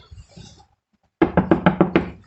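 Knuckles rapping six quick, crisp knocks on a wooden mint sign in a garage, close and evenly spaced, following a moment of quiet talk.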